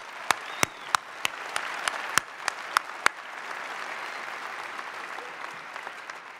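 A winter commencement audience applauds in a large room, a steady wash of clapping with a run of sharp, close, evenly spaced individual claps standing out over the first three seconds before the crowd carries on more softly.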